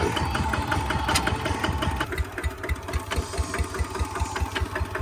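A car engine runs close by at a steady, throbbing idle with a faint rhythmic knock as the car is moved on a farm. There is no talking.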